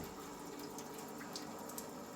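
Water runs steadily into a parts-cleaning container for a Stihl 200T chainsaw, a constant close splashing hiss with no break.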